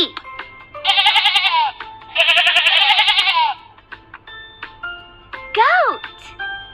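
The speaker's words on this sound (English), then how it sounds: "Sheep." A sheep bleats loudly and close up, two long wavering calls in a row followed by a shorter cry, set against a faint musical background.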